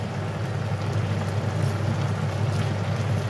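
A noisy kitchen exhaust fan runs steadily after cooking pinakbet, giving a loud, continuous low hum and broadband whoosh that holds even throughout.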